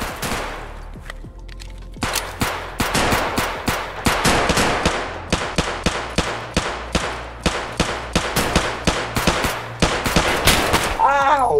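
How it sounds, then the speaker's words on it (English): Automatic gunfire in the video game Escape from Tarkov, rapid bursts of loud close shots firing in quick rhythmic volleys, nearly continuous, with a short whining sound at the end. "Why are you shooting at me, loser?"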